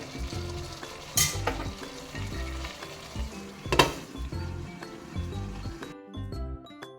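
White chicken biryani fries and sizzles in a pot over a medium flame, a steady close crackle broken by stirring scrapes and a couple of sharp utensil clinks against the pot.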